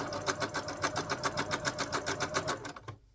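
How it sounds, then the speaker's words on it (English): A sewing machine stitches a fabric pocket on a crossbody bag, its needle pounding in a fast, steady rhythm close up for nearly three seconds before stopping abruptly. "as you sew your pocket together"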